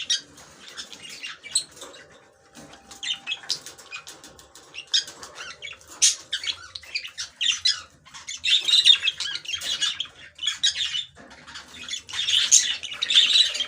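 Sparrows in breeding season chirp and flutter in short, scattered bursts, with wing flaps and squeaky calls rising and falling close by, growing busier toward the end.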